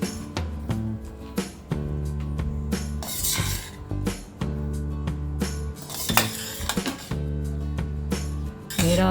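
A spoon stirs seasoned burnt-garlic jeera rice in a metal pan, with repeated clinks and scrapes against the sides in an irregular rhythm, close and distinct over steady background music.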